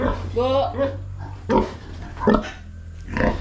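A breeding sow grunts in short, close bursts, several spread across a few seconds, with people talking around it.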